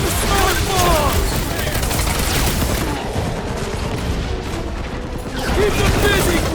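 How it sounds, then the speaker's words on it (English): Smart bombs firing in combat in the Marvel Guardians of the Galaxy video game, a loud, dense, rapid mechanical clatter that continues through the clip, easing briefly in the middle, over busy battle noise. "Bust out the smart bombs!"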